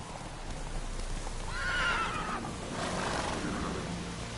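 Roach, a horse in the game The Witcher 3, lets out a loud, shrill whinny that rises and trails off, over a steady rumble of in-game ambience, with no voices speaking.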